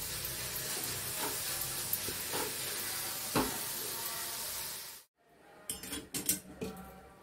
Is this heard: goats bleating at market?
no